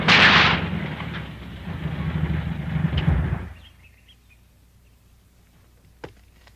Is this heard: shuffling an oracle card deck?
no